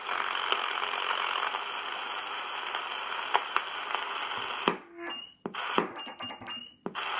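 Super Star 360FM MK1 radio transceiver heard on lower sideband: a dense, steady hiss-like roar of noise that breaks into choppy tone bursts and crackles near the end, close and alone without voices.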